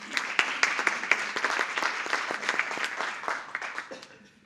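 Audience applause at a Tiger Bay Club community gathering in Manatee County, with distinct sharp claps rising through a crowd's steady clapping that thins out toward the end; faint voices sit underneath.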